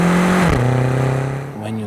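A 2015 BMW X6 M engine revs hard under acceleration, a loud close roar that climbs, drops at a gear change and rises again, all packed into under two seconds.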